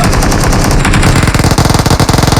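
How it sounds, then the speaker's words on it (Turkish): Loud, sustained automatic gunfire in PUBG Mobile, a rapid machine-gun rattle of many close shots in a dense burst with no talk over it. "Millet birbirini çatır çatır vuruyor."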